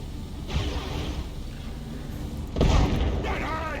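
Grenade explosions in Dawn of War 2 battle, a muffled boom followed by a heavier, louder blast under continuous battle noise, with a voice speaking over the action.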